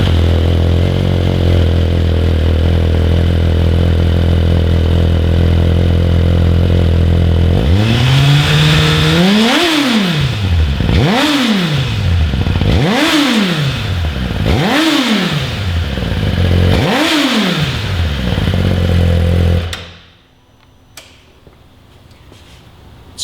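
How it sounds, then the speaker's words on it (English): A 2018 Suzuki GSX-R1000R sportbike idles on its stock exhaust, then gets five sharp throttle blips in quick succession, each rising and falling fast, before the engine cuts to near silence. "let's baseline the stock exhaust note from our 2018 Suzuki GSXR 1000R"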